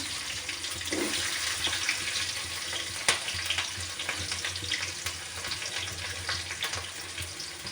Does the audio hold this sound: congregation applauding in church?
no